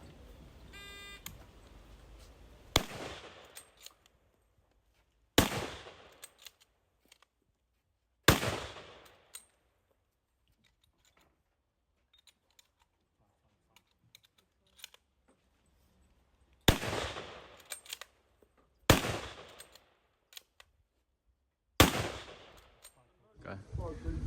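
Sharp gunshots ring out during a timed speed-shooting proficiency exam at an outdoor range, seven loud, isolated reports spaced a few seconds apart with quiet gaps between.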